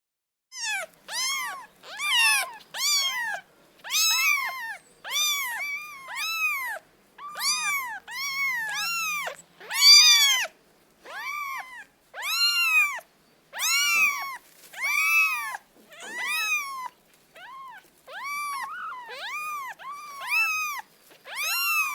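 A domestic cat meows again and again, a long series of clear, close, loud calls with short gaps between them, some drawn out and wavering, with no talking.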